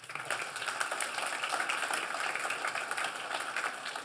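Conference audience at an audit organisation and innovation event applauding, a continuous wash of many hands clapping at moderate distance, fairly even in level from start to finish.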